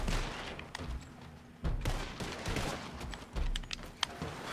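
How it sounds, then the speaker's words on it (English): Repeated gunshots and heavy booms, including cannon fire, crack through a battle in the Red Dead Redemption 2 video game, dense and overlapping with no talk. "Careful, that cannon's still up, Kim."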